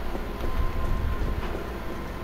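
A subway train in the Resident Evil 3 game rumbles past as a loud, steady roar with faint rail clatter, with no speech over it.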